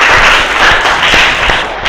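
Applause for students in a classroom: a short burst of loud, dense clapping from a group of people that fades near the end.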